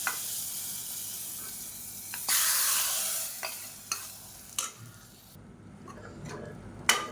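Chillies and curry leaves tempered in hot oil are stirred into chow chow kadayal, a soft sizzle broken by a few sharp stirring clatters and clicks, close and moderately loud with no talking.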